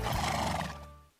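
A horse gives a single loud, shrill whinny that trails off over about a second, heard alone without any talk.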